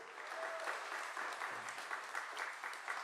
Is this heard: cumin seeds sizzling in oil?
no